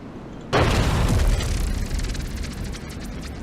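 Explosions from the player's own bombers in the game From the Depths: a loud, sudden boom followed by a rumbling roar of further blasts that slowly fades over a few seconds, with no talk.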